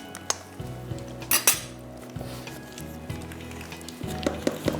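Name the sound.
food frying in oil on high flame, sizzling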